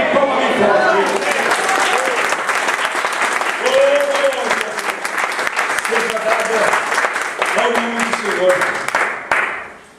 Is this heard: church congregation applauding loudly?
yes